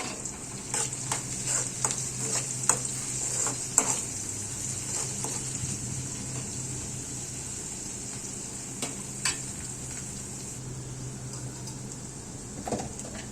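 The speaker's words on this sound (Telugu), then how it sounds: "ఇప్పుడు రొయ్యలు కొన్ని కలుపుకొని కొంచెం ఎర్రగా అయ్యేదానిక నూనెలో ఫ్రై అయ్యేదానిక ఉండనివ్వాలి" Prawns frying in oil for a cucumber, tomato and prawn curry, giving a continuous sizzle under repeated light clinks and scrapes of a stirring utensil against the pan, with no talking.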